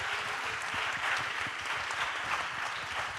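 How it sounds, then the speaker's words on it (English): An audience at a startup venture day event in Madrid gives finalist teams an even, sustained round of applause, a dense, moderately distant wash of clapping with no talking. "I would like to get a big round of applause to all the teams"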